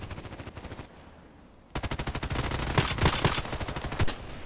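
Rapid automatic fire from an EBR rifle in a video game, a dense burst of sharp repeated shots that starts after a brief lull and keeps going, loud and close, with quieter shooting before it.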